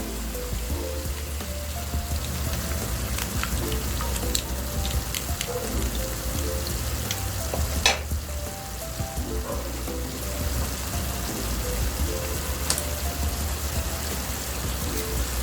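Ground pork menudillo sizzling hard in a pan as tomato sauce goes in, a dense continuous crackle and hiss like heavy rain, with a few sharper pops and a steady low hum beneath.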